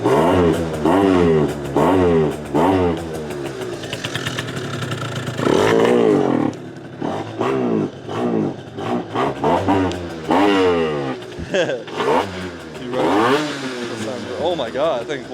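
A scooter engine revs and pulls in repeated rising and falling bursts close by, with talking heard over parts of it.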